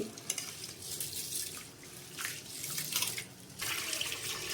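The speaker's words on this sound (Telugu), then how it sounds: "ఇలాగా వాటర్ అయితే వంపేస్తున్నాను" Water poured off washed kota rice in a bowl at a kitchen sink, a steady splashing run with a few louder gushes, close and continuous with no talking.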